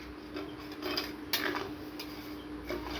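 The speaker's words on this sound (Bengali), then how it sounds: "চিনিটা আমরা ভালো করে নেড়ে নেব।" A spoon stirs sugar and saffron in a pot, giving faint soft scrapes and light metallic clinks, with one sharper tap, over a quiet steady background.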